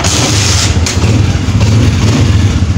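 A freshly serviced motorcycle engine runs loud and close, with a steady low throbbing exhaust note that holds even throughout, pulsing rhythmically and barely changing, without any talk over it.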